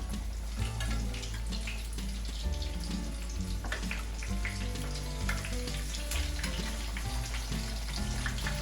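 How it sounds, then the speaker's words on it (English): Chicken tenders frying in hot oil at about 350 to 375 degrees, a steady close crackling sizzle with scattered pops and bubbling throughout. "Once your oil hits about 350, 375 degrees, we're going to drop these in, get them cooking."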